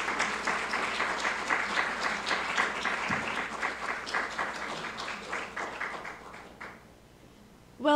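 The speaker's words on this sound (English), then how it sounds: "So please give a warm applause for Silvia Chiave, Consul General of Italy" Audience applause rings out at a design lecture on Gianfranco Ferré, with brisk, fairly close clapping that holds steady and then dies away near the end.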